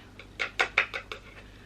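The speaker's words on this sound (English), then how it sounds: "What I like to do is tap it into the lid" A makeup brush tapped repeatedly against the lid of a Laura Mercier translucent setting powder, giving about six light, close tapping clicks in a quick irregular series with no talk.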